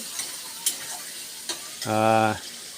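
Paneer with pointed gourd and potato is stirred in a pan, with a few light scrapes and clicks over a soft sizzle, then a brief voiced sound near the end.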